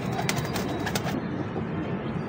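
Wild Ferozpuri pigeons cooing and fluttering close by, soft repeated calls over a steady background hum.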